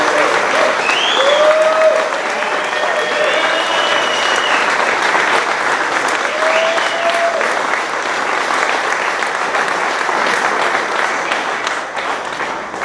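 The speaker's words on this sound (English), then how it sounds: "give him a round of applause" Prolonged, loud audience applause at a networking event in a market hall, dense and sustained with some cheering and voices underneath, tapering slightly at the end.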